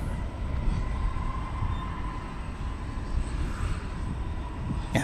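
A Cargolux cargo jet landing on a DFW runway at dusk, a loud continuous roar of engines with a broad rumbling low end and a faint steady whine, sustained close by with no talk.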